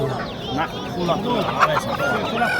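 Roosters and hens cluck and call at a busy poultry bazaar in Namangan, with crowing and clucking mixed into constant crowd chatter and market noise.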